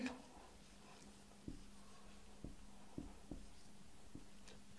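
Chalk or marker taps and short strokes on a board while an example is written during a Bengali grammar lesson, a few sharp clicks spaced irregularly over a faint steady hum, quiet and close.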